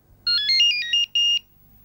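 An electronic cordless telephone ringtone warbles close and clear in two quick trilling bursts, then stops.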